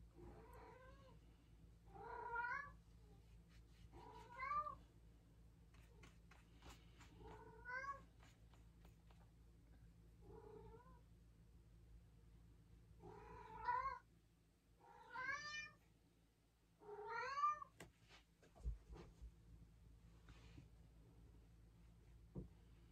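A male cat meows repeatedly indoors for attention during a watercolor painting session, about ten drawn-out, rising cries spaced a second or two apart over a low room hum, fairly close, with no speech.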